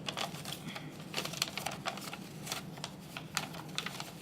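Paper being creased and folded for an origami Millennium Falcon, a quiet run of crisp taps, rustles and crinkles close by, irregular and continuous with no voice.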